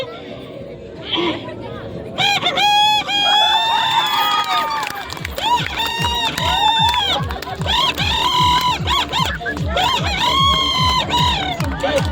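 At a crowd picnic in Silghat, Nagaon district, a person imitates a rooster crowing. The voice gives repeated drawn-out, rising and falling crow-like calls over steady loud crowd chatter.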